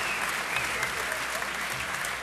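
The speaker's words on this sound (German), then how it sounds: "Die beiden Kämpfer kriegen einen fetten Applaus." A crowd in an MMA event hall applauds both fighters with loud, dense, continuous clapping that holds steady throughout.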